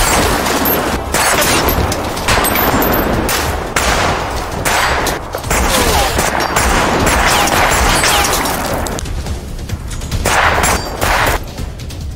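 Sustained gunfire in a film battle, as captured enemy weapons fire dense, loud bursts of automatic shots with booms and crashes, continuous and close for the whole stretch, with no talking.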